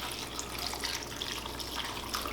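Orange juice poured over a Tofurky roast makes a steady, hissing liquid trickle that runs unbroken at an even level throughout, with no voices.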